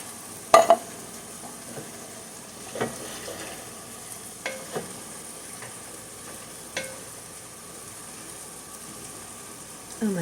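Diced ingredients cooking in a pan for a sauce, a faint soft sizzle under a few scattered stirring scrapes and knocks, with no talking.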